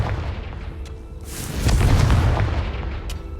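A Confringo blasting spell goes off in Hogwarts Legacy, a booming, rumbling explosion that swells midway and lingers as a low roar, with a few sharp crackles riding on top.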